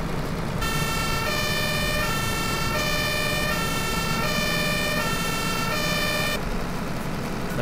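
A fire engine horn and siren in the video game Ski Region Simulator 2012, a loud, steady two-tone wail alternating in a regular rhythm for several seconds before cutting off abruptly.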